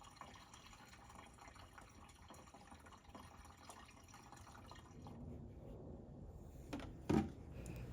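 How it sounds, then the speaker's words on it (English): Windshield washer fluid poured into a car's reservoir tank, a soft, steady liquid trickle under faint background noise, ending with a brief knock near the close. "we're now going to pour this into the tank that was indicated by the washer fluid cap"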